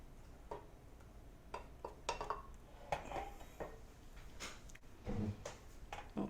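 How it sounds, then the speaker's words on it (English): A wooden spoon stirring hot strawberry glaze sauce in a pot, with irregular soft knocks and scrapes against the pan, close by and fairly quiet. "We'll stir, give that a really nice stir."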